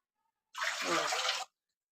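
Measured water is poured from a bowl into a vessel for making turmeric-leaf patolya, a single short, close splashing pour lasting about a second in otherwise silence.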